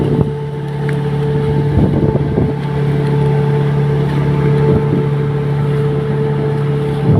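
A tourist bangka motorboat in El Nido and San Vicente runs its engine steadily, a loud low hum with a drone beneath, joined by wind rush and a few bumps.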